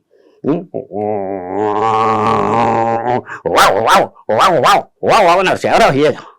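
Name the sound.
voice imitating dogs barking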